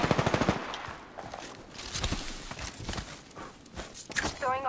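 Rapid automatic gunfire from a squad shooter video game opens with a quick burst of shots, followed by scattered shots and movement sounds, with faint voices underneath.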